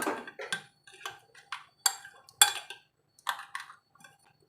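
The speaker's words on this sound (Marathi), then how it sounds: "आपण हे छान असं व्यवस्थित मिक्स करून घ्यायचं आहे" A spoon stirs curd into a green chilli mixture in a bowl, giving a string of light, close clinks and taps against the bowl at an uneven rhythm.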